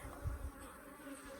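Africanized hybrid honey bees buzz steadily around a hive in a Southern Arizona residential neighborhood, a faint continuous drone with no voices.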